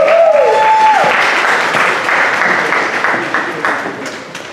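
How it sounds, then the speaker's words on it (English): A round of audience applause at a maternity fundraiser after a performance by young people, loud and full throughout, with a brief voice at the start. "can we give them another round of applause?"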